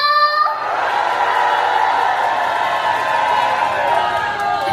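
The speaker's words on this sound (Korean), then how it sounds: "다같이 큰 소리로 박수와 함성!" Festival crowd at a live outdoor concert clapping and cheering loudly, a steady continuous roar of applause and shouts filling the whole moment.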